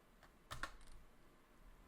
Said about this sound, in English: So now that we are out of it, we can type MySQL u root